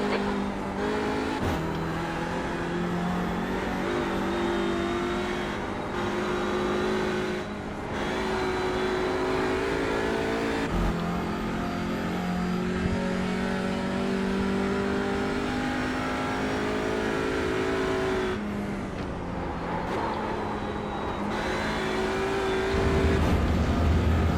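An Audi RS3 TCR touring race car at Summit Point Raceway in the iRacing simulator drones loud and continuous, its engine rising and dropping through gear changes with brief lifts off the throttle.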